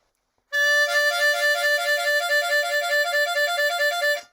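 A single blues harmonica note played with a pucker embouchure, held for several seconds with a steady reedy tone and a quick rhythmic pulsing, close and alone.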